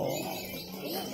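Songbirds at a crowded bird singing contest chirp and warble in a dense, continuous chorus, bright overlapping calls at moderate volume filling the space.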